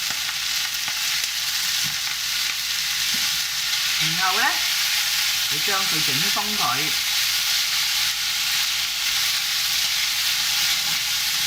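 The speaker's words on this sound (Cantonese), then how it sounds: "我哋就落麵落去煎啦。" Damp egg noodles frying in hot oil in a wok over high heat for Guangzhou crispy noodles, with a loud continuous sizzle and someone speaking over it.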